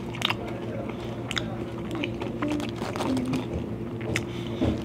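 Crispy fries from a hotdog and burger shop being chewed up close, soft crunching bites repeating over a low background hum of the restaurant.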